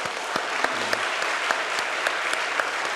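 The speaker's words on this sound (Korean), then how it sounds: "우리 아름답게 지으신 하나님 앞에 감사의 박수 한번 올리십시다." Congregation applauding in thanks during a Sunday church service, a dense, steady wash of many hands clapping throughout, with no voices over it.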